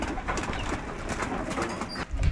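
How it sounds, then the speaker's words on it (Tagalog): Pigeons coo steadily at an open-area pigeon loft, a close chorus of bird calls with fluttering wing flaps mixed in throughout. "Grabe, lumipad mga kalapatid."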